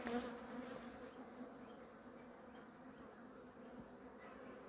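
A soft, steady hum of many honeybees buzzing together, continuous and even throughout, with faint higher buzzes drifting past now and then.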